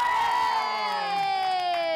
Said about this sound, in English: You can scream and shout if you want.